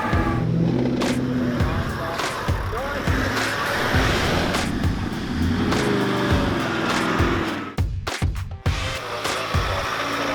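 A stock Mazda BT50 ute revs its engine while crawling an off-road track, a loud, sustained roar with throttle surges and a few knocks near the end. A voice talks over it now and then.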